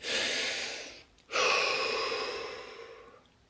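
A slow, deep breath during a guided muscle-relaxation exercise: a long airy inhale, a short pause, then a sustained exhale that fades out, heard close and alone.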